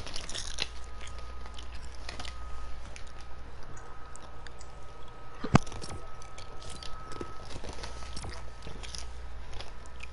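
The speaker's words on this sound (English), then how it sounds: "if you hear my crunching or smacking, because I'm hungry" Someone eating while gaming at a close microphone, with steady soft crunching and chewing bites over a constant low hum, plus one sharper click near the middle.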